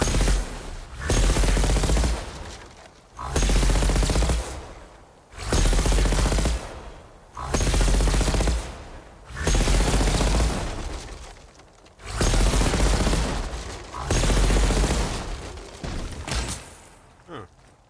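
A pulse cannon in Horizon Forbidden West fires heavy, loud bursts of rapid weapon fire in a steady rhythm, each blast lasting about a second with brief silent gaps between.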